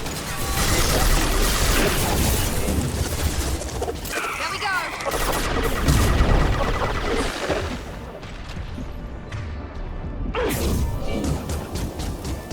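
Sustained gunfire at injection tubes in Mass Effect 2: rapid bursts of shots mixed with clanking mechanical crashes and impacts, loud and busy, with a brief lull, and voices heard over the fighting.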